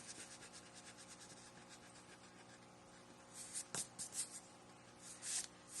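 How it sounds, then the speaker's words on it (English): An eraser rubs out a drawn pencil line on paper, giving quick soft scratchy strokes, faint at first and then a few louder rubbing bursts near the end. "let's erase this line right here"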